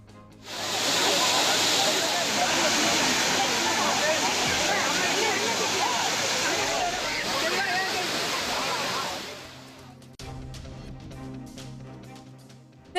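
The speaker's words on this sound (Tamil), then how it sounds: "கும்பக்கரை அருவியில் ஆர்ப்பரித்து கொட்டிய நீரில் சுற்றுலா பயணிகள் உற்சாக குளியல்." Water roars down Kumbakkarai waterfall in a loud, steady, dense rush that holds for about nine seconds before fading, after which a faint voice and other background sounds take over.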